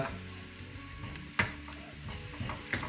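Onions and green chili frying in a pan for a chicken and chickpea curry, a low continuous sizzle with a couple of brief utensil clicks, no voices.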